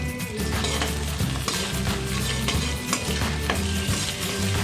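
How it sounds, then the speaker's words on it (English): Spices, dry red chilies and curry leaves stirred in a hot pan for spicy puffed rice, with continuous scraping and sizzling, a few clinks of the spoon against the pan, close and fairly loud. "stir well properly for few seconds"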